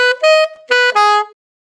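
Four detached notes on an alto saxophone form a short phrase, close and clear, ending abruptly into silence.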